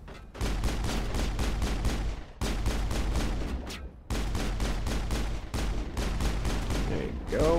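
Rapid, steady weapon fire in the Mass Effect video game: dense runs of evenly spaced shots with brief pauses between bursts, loud and close, continuing almost without a break.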